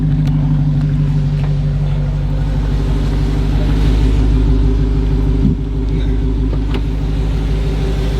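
A 2021 Dodge Charger Redeye Hellcat holding a line-lock burnout, its supercharged engine droning loud and close in a heavy, steady rumble, with a brief dip in intensity partway through before carrying on.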